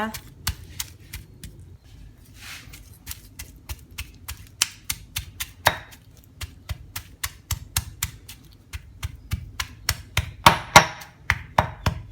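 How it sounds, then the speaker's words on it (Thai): Shallots and shrimp paste pounded in a mortar for a spicy southern Thai curry: a steady run of sharp, evenly spaced thuds that grows louder and quicker toward the end, close and clear. "โขลกให้เข้ากันนะคะ"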